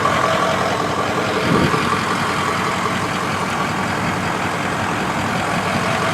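Diesel truck with a 6.0 engine idling, a steady, loud, close rumble with a rough even clatter, holding unchanged throughout apart from a brief bump early on, no talk.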